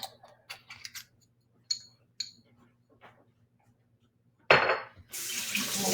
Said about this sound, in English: I'm going to rinse this right now because I know I'm going to need this afterwards